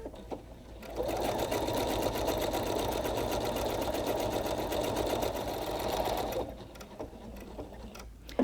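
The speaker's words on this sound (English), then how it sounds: "I'm going to stitch this one out." A Pfaff Creative Performance sewing machine stitches out an embroidery design, a steady, fast, even mechanical whir that runs loud and unbroken for about five seconds, then stops, leaving quiet room tone.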